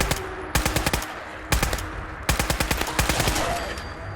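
Rapid bursts of automatic gunfire from a weapon in Fallout 4, fired in several loud clusters of quick sharp shots separated by short pauses.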